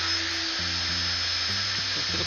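A fossil cleaning machine in the Stardew Valley video game gives off a loud, continuous high-pitched whine like a drill, steady throughout over a faint low game melody.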